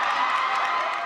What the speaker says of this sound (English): hundreds of people turned out in Jordan's hometown to cheer him on